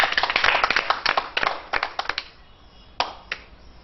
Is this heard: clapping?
yes